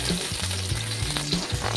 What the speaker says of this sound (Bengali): এই দেখো এখানে কেটে রাখা করলাগুলো আমি ভেজে নিব।